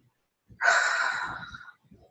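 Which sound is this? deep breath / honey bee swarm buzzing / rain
deep breath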